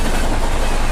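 A diesel train rumbles past close by, a deep, dense, continuous roar filling the short moment without pause.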